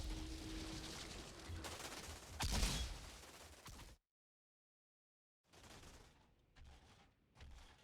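Volcanic Round ability gunfire in the Outriders video game, rapid repeated shots with a heavy impact burst, then a full silence before softer scattered shots and effects return.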